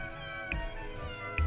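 Cat meows woven into a video game soundtrack, two short high mews rising over steady, layered background music.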